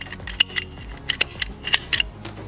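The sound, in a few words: hose cutters cutting a rubber axle breather hose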